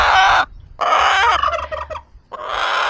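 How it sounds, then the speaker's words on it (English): Farm hens squawk and cackle loudly and close by during a solar eclipse, in three agitated bursts separated by short pauses. "none of the hens usually act that way, making noise and coming at me like that"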